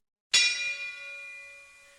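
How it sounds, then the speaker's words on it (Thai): A small bell is struck once right beside someone's ear, giving a sharp bright ding that rings on and slowly fades, heard alone. "ยกระฆังขึ้นเคาะข้างหูเจ้าคุณพาณิชย์"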